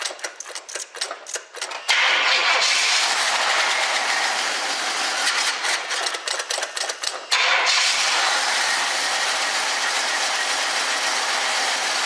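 A classic car engine, a 1976 Pontiac Firebird Formula or 1956 Chevrolet Nomad, cranks in rapid rhythmic starter bursts, catches, and settles into a loud steady running roar, with a second burst of cranking partway through.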